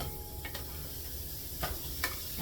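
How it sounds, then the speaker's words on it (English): Sausages browning in a pan for white bean chili, giving a steady, fairly quiet sizzle with a few brief scraping stir sounds over it. "I'm just going to be putting all these sausages in here to start browning"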